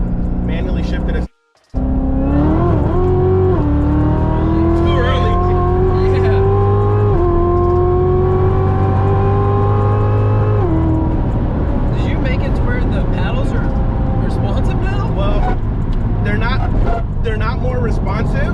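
A car with a GM LT4 supercharged V8 and flex fuel kit accelerates hard through manually shifted gears, engine pitch climbing and dropping at each shift, loud and close, then settling to a lower drone; brief silence near the start.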